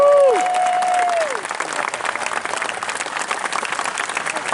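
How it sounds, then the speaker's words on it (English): Continuous audience applause at a community college graduation ceremony, beginning under a fading sung or sustained note and carrying on as dense, even clapping. "would you clap for the weather? One more time."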